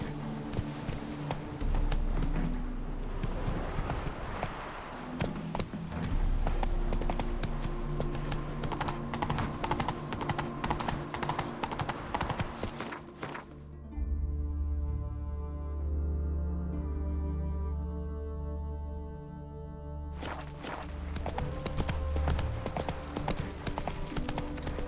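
Hooves of Roach, the horse in The Witcher 3: Wild Hunt, clip-clop in a brisk rhythm among game sounds, drop away during a quieter stretch, then return toward the end.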